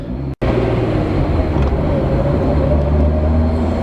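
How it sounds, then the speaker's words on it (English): A VR6 car engine rumbles steadily with a deep, continuous exhaust drone while driving with windows down, loud and close, with a brief dropout near the start. "Windows down so we can hear the exhaust"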